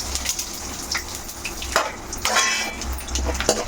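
Tempering spices of garlic, cumin, mustard seeds, chana dal, urad dal and dried red chillies frying in hot oil, with a steady close sizzle and a few sharp crackles and pops breaking through.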